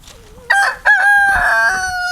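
A rooster on a homestead crows loudly and close by, two drawn-out calls following a brief cluck, with little else around.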